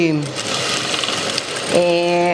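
A semi-industrial sewing machine hems a dish towel, giving a steady mechanical whir and ratcheting hum that shifts pitch near the end. Tonal sounds rise above it at the start and close.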